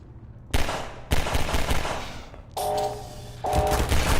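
Turret gunfire in Half-Life 2: loud, sustained bursts of rapid automatic fire, starting abruptly and cutting in and out in several long volleys, close and alone without talk.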